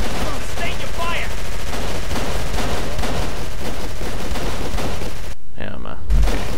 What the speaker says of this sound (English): We'll lay down some covering fire